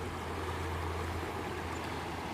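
A small stream of water runs steadily beneath a little wooden bridge along a trail, a continuous broadband wash with a low rumble, close and moderately loud with no talking.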